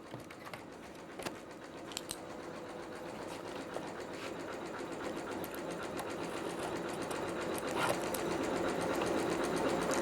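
A home sewing machine runs a straight stitch along a folded quilt corner hem, a steady mechanical whir with rapid needle chatter that holds evenly loud for the whole stretch, with no talking.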